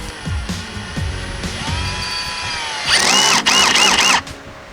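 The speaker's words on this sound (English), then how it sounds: "I take my screw gun, put it on there, and you give it about another maybe quarter turn" A screw gun tightens the screws of an LED tail light on a 1999–2006 Chevy Silverado. Short, close whirring bursts rise in pitch, and a louder, longer final run follows after light handling noises.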